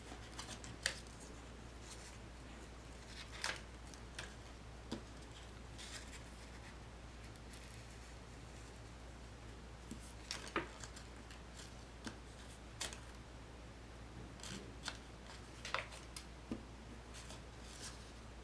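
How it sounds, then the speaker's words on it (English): Scissors snip through plush fabric while cutting around a sewn seam of a stuffed toy, giving sparse, faint clicks and crisp snips at irregular intervals over a quiet, steady background hum. "I need some room to get in there with my scissors and to cut around the seam."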